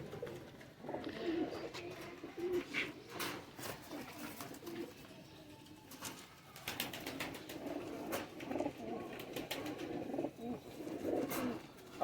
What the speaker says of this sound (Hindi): ये प्योर पट्टी वाला कबूतर है